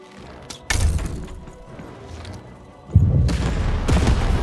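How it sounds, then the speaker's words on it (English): A cannon fires in the video game Lost in Random, giving heavy booming thuds with rumbling, crashing tails, one blast near the start and another about two seconds later, loud and close with no speech. "Shoot the button to fire the cannon."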